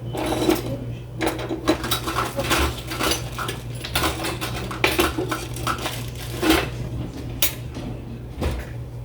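Butter knives and dishes handled in a kitchen while making a late breakfast, with irregular sharp clinks, clatters and knocks of cutlery against plates, some close and loud, over a low steady hum.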